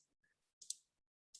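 Calculator keys are pressed while numbers are typed in for a 3x4 matrix. Three soft, close clicks come in quick succession against near silence.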